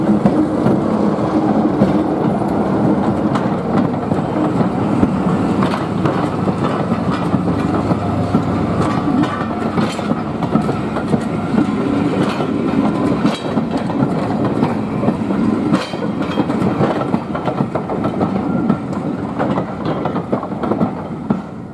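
A Class 46 diesel locomotive train rumbles steadily past at close range, a continuous heavy drone with rhythmic clickety-clack from the wheels over the rails, loud throughout.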